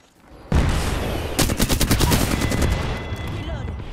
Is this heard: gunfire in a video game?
yes